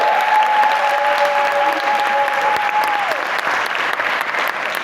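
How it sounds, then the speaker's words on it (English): A large conference audience at a UN-Habitat closing session in Nairobi gives sustained, dense applause throughout, with a faint tonal hum in the room behind it. "can we please give Juliet and Ufanisi a huge round of applause?"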